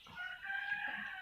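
A rooster crows in one sustained, strained call, with free-roaming chickens clucking faintly nearby in a bitter gourd vegetable garden.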